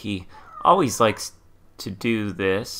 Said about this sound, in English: Maybe you heard a meow there.